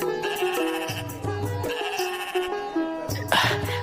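Two sheep bleat close by in a royal court scene, a few loud wavering bleats in succession, with short pauses between calls.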